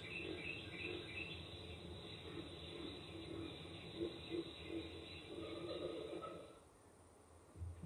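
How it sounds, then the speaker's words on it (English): Birds and frogs from the Voyager golden record sounds, a dense outdoor chorus of overlapping chirps and trills with a thin, high, continuous buzz that cuts off near the end, leaving a quieter background. "Birds and frogs."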